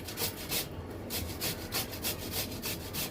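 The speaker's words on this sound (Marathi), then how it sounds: "आता आपण खिसून घेऊया। खिसून आपल्याला घ्यायचे आहेत आवळे।" Chilled Indian gooseberries (amla) scraped across a kitchen grater in steady, rhythmic rasping strokes about three per second, close and clear, with no talking.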